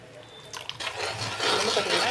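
Cornflour slurry poured into a pot of jamun fruit jam, a soft liquid trickle and splash building after a few quiet clinks, fairly faint and close.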